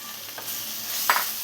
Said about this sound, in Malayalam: ഇതെല്ലാം കൂടെ ഒന്ന് മിക്സ് ചെയ്ത് കൊടുക്കാം.